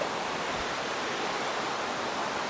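Second tier of Elephant Falls in Meghalaya, a steady broadband roar of falling water that holds constant throughout, close and fairly loud with no voices.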